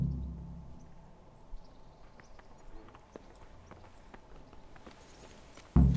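Horse hooves clip-clop at a steady walking pace in the medieval game Kingdom Come: Deliverance, soft and mid-distance beneath a faint ambient bed, with a louder thump right at the end.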